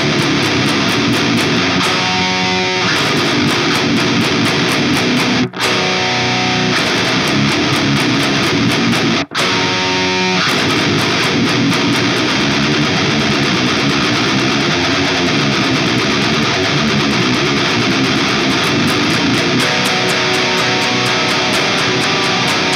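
Dense, distorted metal guitar riffs play loud and continuous with full band texture, broken by two brief sharp cuts in the first half.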